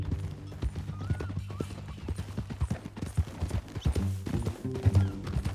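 Horse hooves clip-clop steadily in Red Dead Redemption 2, a close, dense rhythm of hoof strikes over a low game soundscape, with no talk.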